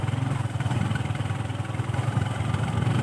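Motorcycle engines idle nearby with a steady low throbbing rumble, loud and continuous, with faint voices in the background.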